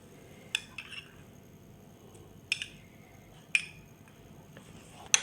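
A spoon clinking against a bowl while yogurt, lemon juice and ginger-garlic paste are stirred together: a few sharp, separate metallic taps spaced a second or two apart over quiet background.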